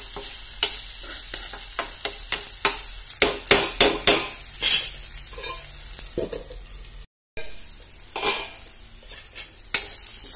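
Pointed gourd (parvalu) curry is stirred in a pan, with a run of sharp scraping strokes of the spoon against the metal over a low sizzle, then a brief pause and a few more scrapes.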